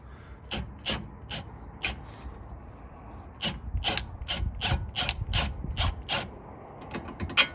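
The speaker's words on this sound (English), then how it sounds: "Now we're gonna remove this bolt." A bolt being removed from the suspension of a Porsche 911 996 during a coilover install: quick bursts of close ratchet clicks with short pauses, growing faster and denser toward the end.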